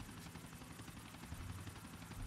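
A helicopter in the video game GTA IV gives a faint, continuous rotor whir for about two seconds, with no voices.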